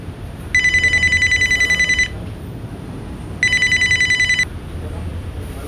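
Telephone ringing while calling a Yamaha motorcycle dealer, two bursts of a bright electronic ring tone separated by a pause, heard through the handset over low background hiss.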